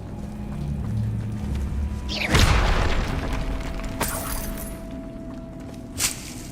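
A Bombarda explosion spell goes off in Hogwarts Legacy with a single loud, booming blast and crackling debris, followed by a fainter second impact near the end.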